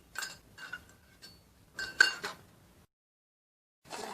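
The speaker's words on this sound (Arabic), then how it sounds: "نحرك حتى نشوف لا جيلاتين تاعي دابت." A spoon clinks against a pot while gelatin powder is stirred into a lemon pulp mixture, giving scattered light metallic taps in short bursts, followed by a brief pause and then more clinking.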